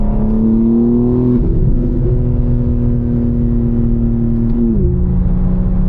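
BMW M4 Competition with loud exhaust, driving: a steady droning engine note with a pitch dip and recovery midway, continuous and close, no talk.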